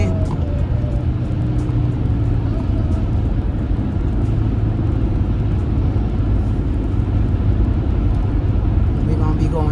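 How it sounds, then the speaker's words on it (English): A car engine labors steadily uphill on a mountain road during a family road trip, a continuous loud low rumble throughout with voices talking over it. "Do you hear the sound of the car? That means we're going up that hill."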